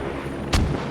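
A single mortar shell lands close by in the game Squad, one sharp thudding blast rising over a steady low battlefield rumble, no voices.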